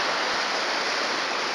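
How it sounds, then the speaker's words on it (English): Falling water rushes in a steady, dense broadband roar from a waterfall on a trail at Mission Trails, continuous and fairly near, with no voices. "And that is a waterfall."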